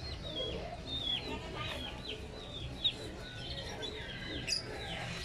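Peruvian gamefowl chickens cluck and call in a yard, a steady run of short calls under faint background noise, with a couple of louder squawks.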